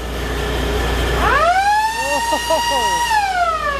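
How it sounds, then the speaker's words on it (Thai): The siren on a new rice combine harvester with an air-conditioned cab, built by the Boy Charoen workshop, winds up suddenly and holds a loud, close, warbling wail over a low engine hum. "อันนี้หวอเหรอมีหวอด้วย"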